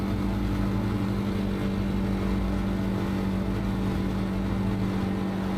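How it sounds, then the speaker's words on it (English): Motorcycle engine holding a steady, continuous hum with a strong low drone, constant and close throughout a first-person ride, no voices. "The steady hum of the engine, it's like a melody to my ears"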